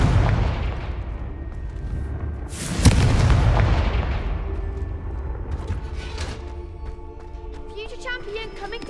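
In Hogwarts Legacy, the Confringo fire spell is cast: a sharp fiery boom bursts out over steady game ambience, then decays into a fading crackle.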